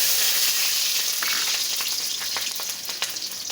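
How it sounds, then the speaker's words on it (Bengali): Garlic and green chillies hit hot oil with a loud spitting sizzle that settles into steady frying, with sharp spoon scrapes growing more frequent toward the end. Close, with no talking. "আমি দিয়ে দেবো রসুন আর কাঁচা লঙ্কা।"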